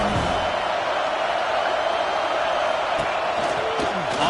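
A packed football stadium crowd cheers and roars steadily in a loud, unbroken wash of noise, with a commentator speaking over it.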